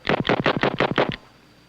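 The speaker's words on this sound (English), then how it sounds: "Let's try a little fanning and let you see that it's not the slowest gun in the world." Single-action six-shooter revolver fanned in a quickdraw demonstration: six loud, sharp shots in a fast even burst over about a second, each ringing briefly, then a quiet tail with no talk.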